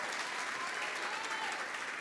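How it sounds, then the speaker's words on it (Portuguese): A church congregation applauds in a dense, steady clatter of many hands clapping at once, even in level throughout and moderately quiet, heard alone without voices. "Eu quero que vocês deem uma salva de palmas para esse casal maravilhoso."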